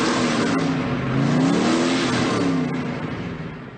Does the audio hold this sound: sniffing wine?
no